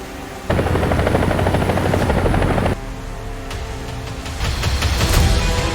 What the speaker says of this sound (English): This player could hear a drone buzzing closer to him, but just couldn't figure out where it was coming from.